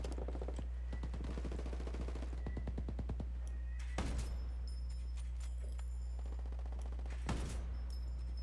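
Gunfire in Ghost Recon Wildlands: rapid bursts of automatic shots crackle in tight strings, broken by a few heavier single reports, with sharp metallic pings over a steady low hum.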